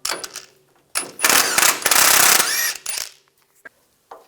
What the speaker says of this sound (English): Using a 24mm socket, take the nut off.